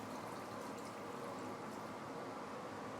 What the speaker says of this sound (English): Then added with a similar amount of water here.